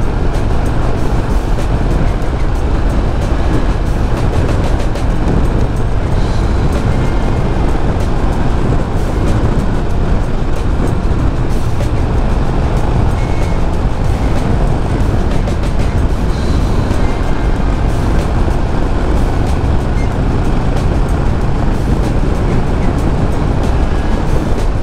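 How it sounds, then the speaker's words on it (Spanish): A steady, loud engine roar from a Yamaha XV 950 Bolt motorcycle with broadband road and wind noise runs continuously while riding along. "me encanta el sonido que tiene la moto"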